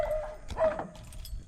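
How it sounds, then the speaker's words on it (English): Rabbit hunting dogs barking faintly in the distance, a few scattered yips and barks over a quiet outdoor morning background. "You can hear my old rabbit dogs barking"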